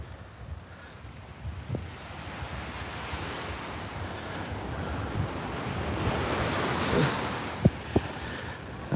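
Ocean surf rolling onto Coney Island beach, a steady wash of waves with wind buffeting the microphone and a few faint knocks, no voices.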